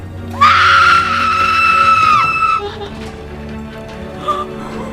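A woman in a film scene screams at full force, a long loud sustained shriek lasting about two seconds, then it trails off into a quieter background.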